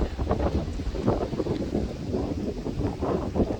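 Breezy wind blowing outdoors on a hillside, a steady buffeting rush across the microphone, close and continuous with gusty fluctuations.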